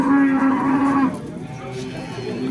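At a cattle market in Andijan, a cow lets out one long, loud moo up close that tapers off into the market's background murmur.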